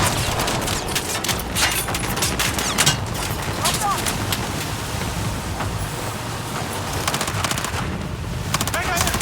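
Rapid automatic gunfire and explosions from the Battlefield 4 video game crackle in dense bursts throughout, loud and continuous, with a player's voice talking over the shooting.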